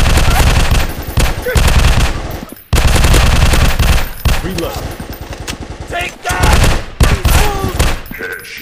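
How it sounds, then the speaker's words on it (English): Rapid automatic gunfire from an Android first-person military shooter comes in loud sustained bursts with short gaps between them. A voice speaks over the shots. "I'm shooting! Headshot."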